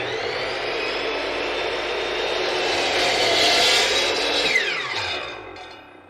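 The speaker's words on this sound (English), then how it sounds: "cut off here at the compound miter saw, we can go ahead and start cross-cutting each of the pieces to their proper width" A compound miter saw cross-cuts a board, its loud motor whine holding steady through the cut and then winding down as the blade slows, with no voices.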